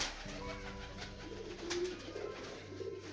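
Rampuri pigeons coo softly in a village loft, a low faint cooing under steady background noise, with no talk.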